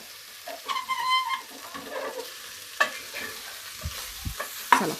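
Pav bhaji vegetables with beetroot stir-fried in a pan: soft continuous sizzling with scattered scraping strokes and a few sharper knocks of a spatula, close and moderately loud, no speech.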